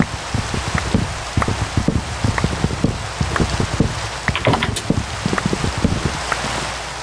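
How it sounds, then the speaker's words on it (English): Game rain falls in Minecraft Sky Factory as a soft, steady patter, with frequent close clicking and tapping sounds scattered on top. "if it was not raining, that would be nice"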